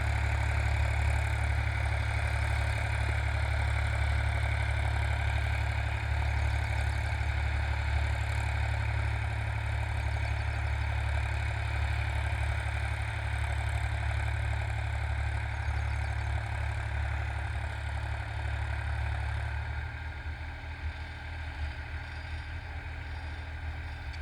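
A Massey Ferguson 245 DI tractor works a field on its final ploughing pass, its diesel engine holding a steady, heavy low drone throughout with a slight change in tone near the end.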